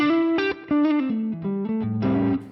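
Electric guitar played through a Fractal modeler on an ODS 100 Dumble-style amp model: a short run of clean-to-lightly-driven single notes and a final chord, close and full, with slight effects shimmer.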